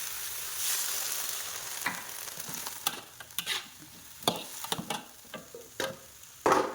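Water droplets hissing and sizzling in a hot covered pan of long beans while it is stirred, soft steady frying with scattered clicks and scraping taps, fairly quiet and close.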